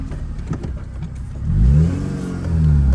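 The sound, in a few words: K24-swapped Acura RSX accelerating in first gear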